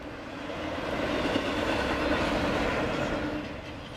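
A train rolls past along railroad tracks beside old Route 66 near Amarillo, Texas, a steady broadband rumble with faint clickety-clack that swells and eases slightly over four seconds, with no voices.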